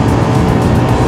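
A 2024 SYM DRGBT scooter engine runs at full throttle during a road ride, a loud, steady, close drone with rushing wind noise and no pauses.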